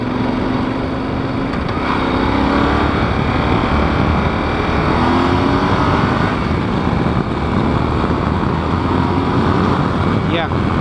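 Yamaha Super Ténéré motorcycle engine pulls hard under acceleration, a steady loud drone with rising harmonics and wind rush, while a rider talks over it.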